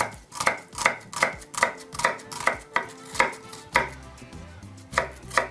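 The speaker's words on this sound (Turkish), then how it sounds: "Soğanlarımı bu şekilde doğruyorum." Onions are chopped with a knife on a cutting board, a steady rhythm of crisp, close thuds about twice a second, with no talking over them.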